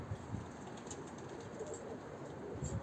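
Soft, low cooing of pigeons, repeated murmurs close by in a quiet space, with faint background hiss and no talking.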